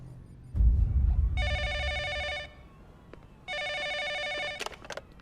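A telephone rings in an Indonesian comedy film scene: two clear electronic ring bursts separated by a short pause, with a dull thump before the first ring and faint background noise.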